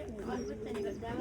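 Soft, low cooing of a nesting female pigeon, faint and muffled, with a voice murmuring in the background.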